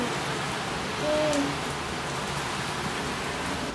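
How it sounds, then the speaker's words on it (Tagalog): Heavy rain pours down in a steady, dense hiss that stays constant throughout, with a brief soft swell near the middle and no clear voices over it. "Lakas ng ulan."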